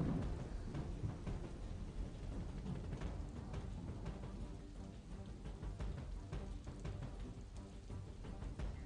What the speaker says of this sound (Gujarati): ભારે પવન અને ગાજવીજ સાથે વરસાદ વરસ્યો છે